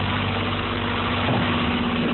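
An Isuzu Typhoon with a blown head gasket runs at a steady, rough idle, a continuous close engine rumble heard alone.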